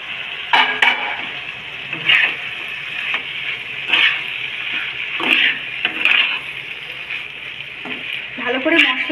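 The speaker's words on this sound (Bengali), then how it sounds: "ভালো করে মশলায় নেড়ে চেড়ে নিলাম।" Banana flower (mocha) stirred with spices in a kadai, with repeated scraping and clinking strokes of a spoon against the pan over a soft sizzle, in a steady irregular rhythm.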